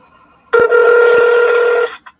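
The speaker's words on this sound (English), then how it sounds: "I'm going to dial my pager, and then I'm going to hold the phone up to the speaker so you can hear what the paging system sounds like" A telephone dials into a pager paging system, heard through a phone held up to a speaker as one loud, steady tone of about a second and a half, followed by a brief short beep.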